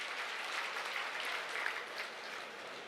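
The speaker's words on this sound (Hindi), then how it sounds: "एक बार जोरदार ताली बजाएं" Audience clapping at an election nomination rally in Kurukshetra, a steady wash of applause that sounds faint and distant and carries on evenly throughout.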